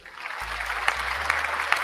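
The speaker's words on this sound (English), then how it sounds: "I'll give you applause for that." A short burst of clapping applause crackles steadily as a sound effect, with a low hum running beneath it.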